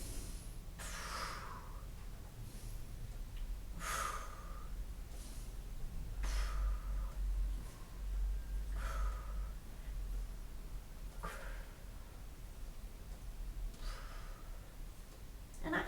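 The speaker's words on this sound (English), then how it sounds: "that breathing is really important as well" Repeated sharp breaths during an exercise workout, about six forceful inhale and exhale bursts spaced roughly every two to three seconds, close and fairly loud over a low background hum.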